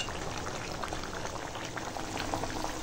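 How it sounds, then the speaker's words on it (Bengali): Potatoes for a meat curry boil steadily in a pot of water, a dense, continuous bubbling and rolling simmer that stays close and even throughout, with no talking. "মাংসর আলুটা এখানে সিদ্ধ করে দিচ্ছি"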